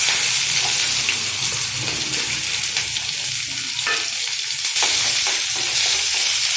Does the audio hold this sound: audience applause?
no